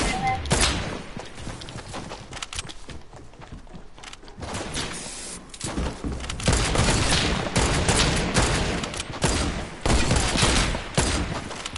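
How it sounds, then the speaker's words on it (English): Dense bursts of automatic gunfire in a multiplayer shooter game, loud rapid volleys rising and falling across the stretch with a few heavier booms, players' voices talking underneath. "now they're shooting at you"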